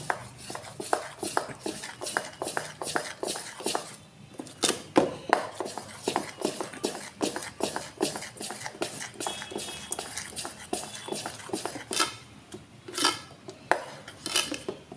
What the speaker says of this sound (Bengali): অল্প একটু জল দিয়ে দেবো দিয়ে এটা মিশিয়ে নেব